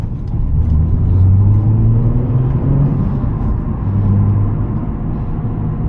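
Modded Nissan 350z engine running steadily with a low, sustained rumble and mild rises in pitch, heard from inside the car during night driving in London, loud and continuous with no talk.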